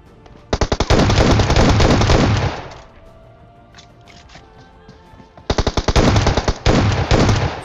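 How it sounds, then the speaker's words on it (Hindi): Rapid automatic gunfire in a battle royale game during an intense last-circle fight: two long, loud bursts of fast shots separated by a quieter pause with scattered distant shots. "तो देखो अब कैसे मारते हैं उसको।"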